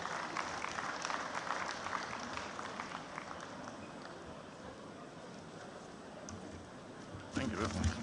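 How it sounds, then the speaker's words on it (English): Audience applause at the opening ceremony of Coal-City 2021, a steady wash of clapping from a large crowd across the hall, fairly distant and even, swelling briefly near the end. "Please, let's give him a round of applause as he comes upstairs."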